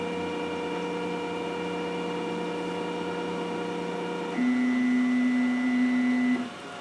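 Flashforge Creator Pro 2 3D printer homing: a steady tonal stepper-motor whine with several hum lines, then a louder, higher single buzzing tone for about two seconds before the motors stop.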